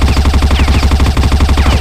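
Rapid submachine gun fire from a werewolf action movie, a loud continuous automatic burst with evenly spaced shots throughout.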